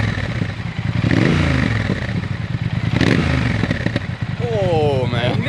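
A Triumph twin motorcycle engine revs with a steady, deep roar that swells and drops back, heard close and loud, with speech mixed in.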